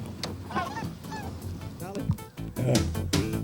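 A flock of wild geese honks repeatedly during a hunt, overlapping calls close and loud, with people talking over them.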